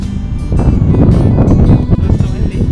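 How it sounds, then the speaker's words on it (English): Strong wind buffets the microphone at Edinburgh Castle, a loud rough rumble that rises and falls in gusts with no clear voices. "It's so windy"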